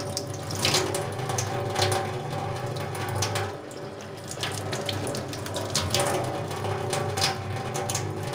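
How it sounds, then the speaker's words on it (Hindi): Tap water runs steadily into a kitchen sink while vegetables are washed by hand, a continuous splashing stream with small shifts as the produce is moved under it, no talk. "इसके लिए आपको टैप को खोलना है।"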